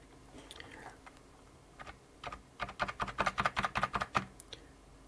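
Keys clatter on a Brother WP-1 word processor keyboard, sparse taps at first, then a fast, steady burst of close, crisp keystrokes in a quiet room.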